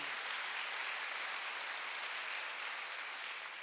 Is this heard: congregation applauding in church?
yes